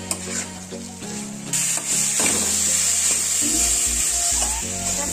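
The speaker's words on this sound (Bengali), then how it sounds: "এবার আমরা এটাকে দিয়ে জোরটা বাড়িয়ে দেব গ্যাসে, ভালো করে কষাবো এটাকে।" Pointed gourd and potato sautéing and being stirred in a pan over a high gas flame, a steady sizzle with scraping stir strokes and a few low knocks near the end.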